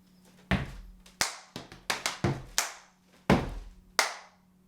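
Stomp and clap body percussion: a sequence of sharp, loud hand claps and heavy thudding foot stomps in a steady slow pattern, close up, with no talking.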